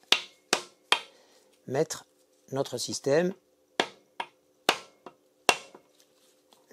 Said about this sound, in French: je prends un marteau anti-rebond